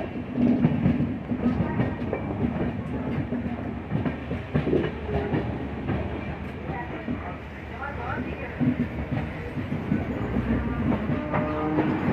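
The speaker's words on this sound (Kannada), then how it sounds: "ಈ ಟ್ರೈನ್ ಕೇಳಿ, ಟ್ರ್ಯಾಕ್ ಸೌಂಡ್ ಕೇಳಿ ಸುಮಾರು ತಿಂಗಳಾಗ್ಬಿಟ್ಟಿತ್ತು." Inside a weekly express train on the Mysuru to Bengaluru line, the wheels rumble and clatter steadily over the rails with rhythmic clickety-clack beats, loud and close, while a voice talks over the noise.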